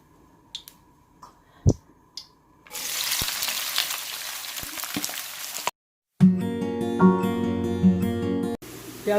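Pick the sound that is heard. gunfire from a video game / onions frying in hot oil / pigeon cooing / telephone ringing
onions frying in hot oil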